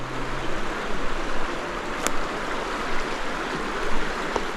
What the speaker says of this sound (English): Can you hear that noise? That's the river which is flowing down there.